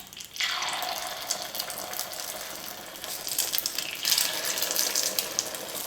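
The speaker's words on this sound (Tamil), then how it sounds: "இப்போ நம்ம முட்டையை ஊற்றிக்கலாம்." Beaten egg poured into hot oil on a stove for a street-style egg dish, an abrupt loud hiss and bubbling fry that starts suddenly and keeps sizzling, with no talking.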